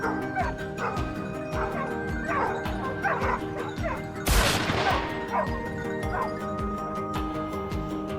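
Hunting dogs bark, yip and whimper repeatedly and excitedly at a wild boar herd in a forest by a stream, close and loud, with a brief crashing burst midway.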